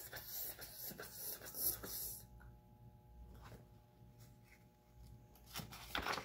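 A voice imitates a rotating lawn sprinkler that turns around and around, making soft, rhythmic hissing spurts that repeat in short bursts.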